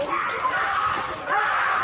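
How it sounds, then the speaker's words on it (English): A woman lets out strained, wavering screams in a recorded clip, two drawn-out bursts with a brief dip between, loud over muffled background noise. "It sounds to me like she was screaming for help"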